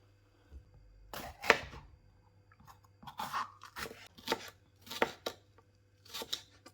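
Peppers sliced into strips with a knife on a board, heard as crisp, crunchy cuts in short clusters separated by quiet pauses, close and clear with no talking.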